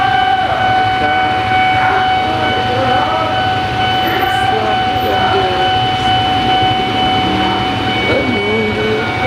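A commuter train arrives at a busy Indonesian station with a loud, continuous rumble and a steady high whine, while voices murmur from a waiting queue.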